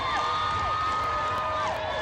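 A parade crowd at the Kent Cornucopia Days cheers and shouts for the Baby Dolls drill team, a steady, moderately loud wash of voices throughout.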